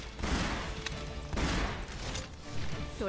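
Bursts of gunfire in the PS4 action game Sengoku Basara 4, several rapid volleys of crackling shots in quick succession, moderately loud with game noise around them and no clear talk.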